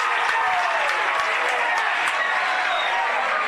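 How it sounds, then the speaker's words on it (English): Crowd noise from spectators at an Australian football under-17.5 grand final, a steady, moderately loud wash of voices and scattered clapping with no clear single shout. "Just hear the Nightcliff crowd. They are not happy."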